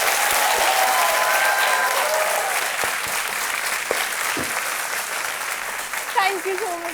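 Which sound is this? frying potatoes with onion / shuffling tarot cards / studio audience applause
studio audience applause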